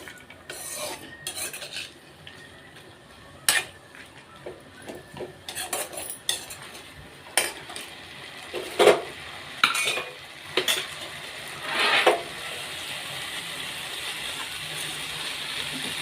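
Coriander chutney ingredients with tamarind are stirred and sautéed in a pan, a spoon clinking and scraping against the metal in irregular bursts over a soft sizzle.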